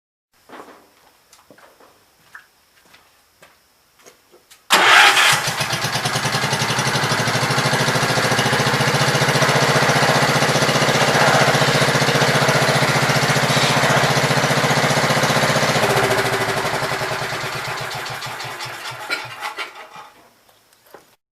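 A Gravely Pro 12 walk-behind mower engine cranks and catches after a few faint clicks and taps, then runs at a steady loud roar close by for about twelve seconds before winding down and cutting off.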